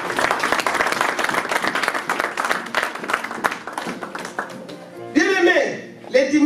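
A church congregation applauds after a scripture reading, a sustained dense clapping that fades out, followed by a voice speaking briefly at the end.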